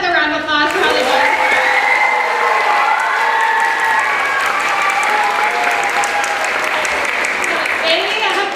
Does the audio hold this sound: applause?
yes